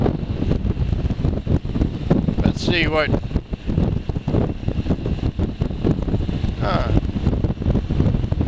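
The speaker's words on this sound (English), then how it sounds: "It's a windy day." Wind buffets the microphone in constant, gusty rumbles during a ride in downtown Tampa, while a person speaks briefly underneath the noise.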